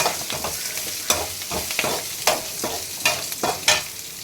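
Ingredients sautéing over a low flame for pirandai thuvaiyal, a soft continuous sizzle broken by repeated sharp spatula scrapes and taps against the pan, close and fairly quiet.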